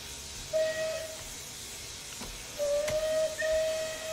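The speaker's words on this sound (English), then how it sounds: "we've got multiple B key whistles. I'm going to cycle through them all." A Merchant Navy Class steam locomotive in the Train Simulator 2020 game sounds its whistle twice, first with a short blast and then with a longer sustained tone. A low hiss of steam runs underneath and between the two blasts.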